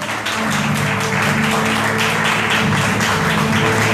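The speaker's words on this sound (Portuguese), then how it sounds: "Você pode aplaudir o Senhor?" A church congregation at a night of praise and worship applauds, producing a dense, continuous wash of clapping with a sustained musical hum underneath, steady and loud from start to finish.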